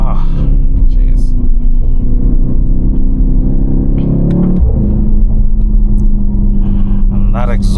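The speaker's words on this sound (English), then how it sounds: "That exhaust is just, oh man." Deep, rumbling V8 biturbo exhaust of a Mercedes-AMG GT63 S idling and revving close by, with people talking over the engine throughout.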